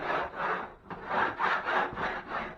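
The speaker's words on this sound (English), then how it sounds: "Just scrape it." Rough scraper strokes rasping in a steady rhythm across a textured interior wall, about six passes at close range, each a gritty rubbing swish before skim coating.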